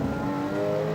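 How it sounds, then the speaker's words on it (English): A car engine revving hard on a track, a loud sustained tonal roar with steady harmonics held throughout the short burst and no talk over it. "Listen to that engine."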